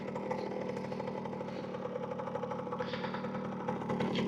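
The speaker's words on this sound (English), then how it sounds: "let me just kill switch the motor because otherwise it's too noisy" A moped motor runs steadily at idle, a rough mid-pitched clatter holding even and close throughout, with no talk over it.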